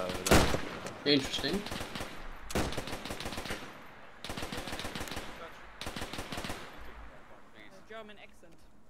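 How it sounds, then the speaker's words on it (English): Bursts of automatic gunfire in a World War II video game set during the Dieppe Raid, four rapid rattling volleys separated by short gaps, close and loud, with brief voices between them. "Where's the fucker that's shooting? Behind the rock."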